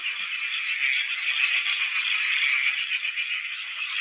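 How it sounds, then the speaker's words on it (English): Tyler's tree frogs call in the bush as a loud, continuous, buzzing chorus that holds steady throughout, with no pauses and no voices. "Tilers, tree frogs."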